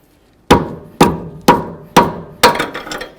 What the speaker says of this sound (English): take your 18 millimeter wrench and give it a couple bonks with your rubber mallet so it's nice and snug